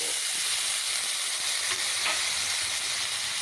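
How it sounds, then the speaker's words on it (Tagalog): Shrimp frying in garlic butter in a pan, a steady bright sizzle with light stirring scrapes, close and even throughout. "Ilalagay na natin ang ating hipon"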